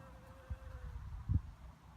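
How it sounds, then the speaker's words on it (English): A faint, low buzzing of bees hovering around lavender on an allotment, soft and continuous, with light outdoor background noise. "You can see the bees liking the lavender."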